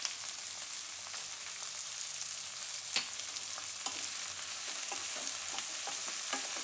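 Cabbage and capsicum cook in a pan with a steady broadband sizzle, while a utensil stirs now and then and gives soft scrapes and taps. No voices are heard.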